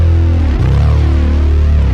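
Bass guitar run through effects pedals, giving a gritty, synth-like tone: a dense sustained low note that shifts pitch partway through, loud and continuous over two seconds, with no talking.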